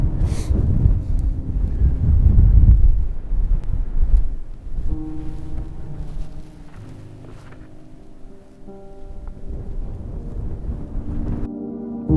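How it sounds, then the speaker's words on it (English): Heavy wind buffets the microphone in loud rumbling gusts, then eases into a quieter stretch with a low tonal hum underneath. "it's probably pretty windy"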